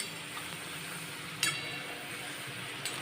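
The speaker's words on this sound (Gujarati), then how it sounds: "ચિપ્સને આપણે સીધી જ નથી પલટાવાની એકથી બે મિનિટ જેવું થાય ત્યારબાદ આપણે ચમચીની મદદથી હળવા હાથે આ રીતે પલટાવીશું" Potato chips for crispy French fries fry quietly in oil as a soft, steady sizzle, while a spoon gently turns them, making two small metallic clinks against the pan. No one speaks.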